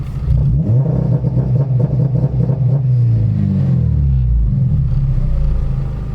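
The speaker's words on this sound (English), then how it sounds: "Now I'm messing with the launch control to make sure it's not so harsh of a limiter." A modified car's engine held against a launch control limiter, revving loudly and up close with a rapid stuttering crackle, the pitch climbing and dipping across several pulls with no voices.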